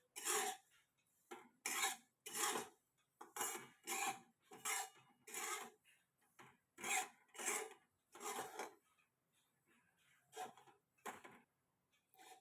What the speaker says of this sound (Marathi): ही आता अगदी हलक्या हाताने आपण भाजत राहायचं थोडा वेळ.